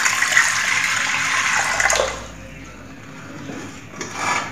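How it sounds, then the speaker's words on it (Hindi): Water pours from a mug into a pressure cooker, a loud splashing gush for about two seconds that tapers to a trickle, with a faint final splash. "इसमें हम पानी डालेंगे।"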